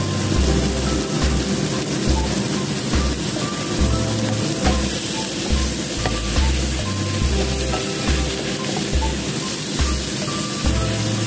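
Bitter melon and tempeh stir-fry in a hot pan with loud continuous sizzling and frying, stirred along with repeated scraping and clatter, and no voices.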